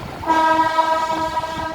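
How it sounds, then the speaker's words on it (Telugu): A train rumbles along the rails, steady and loud, with a sustained horn-like tonal drone riding over the clatter throughout. "ట్రైన్లో మేము వెళ్తున్నాము స్పీడ్గా, మరీ అంత స్పీడ్గా కాదులేండి"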